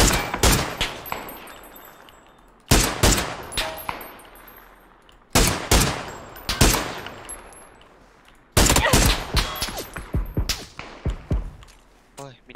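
Gunfire in PUBG comes in four separate volleys of loud, sharp rapid shots, each trailing off into a fading echo before the next burst begins.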